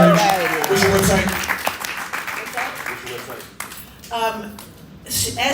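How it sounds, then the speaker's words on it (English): Applause and cheering from a town hall rally crowd for a panelist, loud and sustained, mixed with voices and a host speaking over it. "give her a round of applause"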